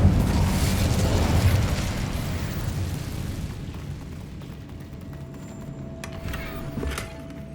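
Incendio fire spell blasting in the Hogwarts Legacy video game: a loud, roaring burst that rumbles and then tails off into a quieter fading hiss with a faint tonal ring near the end.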